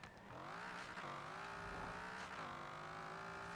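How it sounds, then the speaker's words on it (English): A Dodge Dart with a V10 engine swap in Forza Horizon 4, engine howling hard under acceleration, one loud sustained rising drone with quick dips at gear changes, heard alone and up close. "with the V10 engine swap, this is definitely one of the highest accelerating cars on this list"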